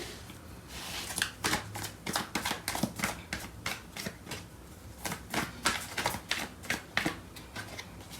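Tarot cards are shuffled steadily, with a dense run of crisp riffling flicks and snaps in an uneven rhythm, close and moderately loud, with no voice over them.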